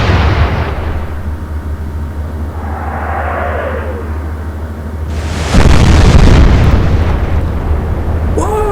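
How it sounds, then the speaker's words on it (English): A warship's magazine detonates in a World War II naval combat game, a deep rumbling boom that follows a quieter stretch of battle noise, swelling loud and sustained before slowly fading. "Was that a magazine detonation?"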